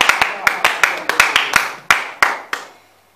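Church congregation clapping in acclaim, about a dozen loud sharp claps in a steady, slightly uneven rhythm, close and dominant, fading out at the end.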